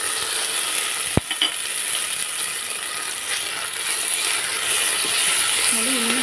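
Ginger garlic paste frying in a pan for tomato bath gives a steady, close sizzling hiss throughout, with one sharp click of a utensil early on.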